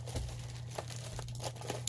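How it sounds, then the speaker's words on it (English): Craft scissors cut open a paper envelope, giving soft, crinkly snipping and rustling over a steady low hum, quiet and close. "So I'm just taking some craft scissors and cutting it open."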